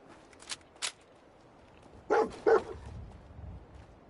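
Dogmeat, the companion dog in Fallout 4, barks in a few sharp separate yaps: two short ones, a pause, then two louder barks close together over low game ambience.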